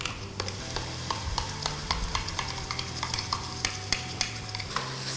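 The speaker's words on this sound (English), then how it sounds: "Now to this we will first add in the green masala." Green masala sizzles and fries with golden onions in a pan, crab green curry under way, with steady spitting and repeated stirring scrapes and taps of a spoon against the pan.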